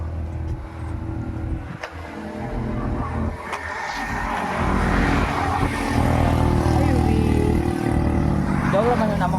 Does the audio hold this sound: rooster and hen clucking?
no